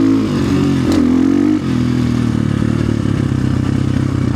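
A big dirt bike on a West Virginia trail, its engine droning loud and steady throughout, with a brief rev swell and a clatter near the start.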